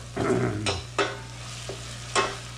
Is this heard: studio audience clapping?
no